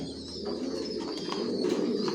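Silver racer pigeons coo in a loft, including a pair sitting on eggs: a soft, steady rolling coo at close range, with faint scattered clicks and shuffles and no speech.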